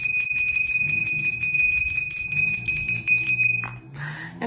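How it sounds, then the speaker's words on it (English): A hand bell rung in a spiritual ancestor-calling ritual gives a clear, sustained metallic ring with bright overtones that fades out near the end, with no speech over it. "Let's ring my bell again."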